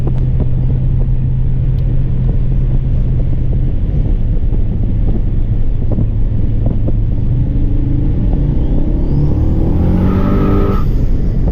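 GMC Canyon pickup with a twin-turbo 5.3 V8 driving on the road, heard as a loud continuous engine drone with heavy wind buffeting, and a rising whine near the end.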